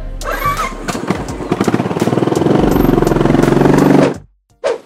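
A motorcycle engine starting, cranking then catching into a loud, rapid, pulsing run that holds for a few seconds before cutting off, followed by a short burst.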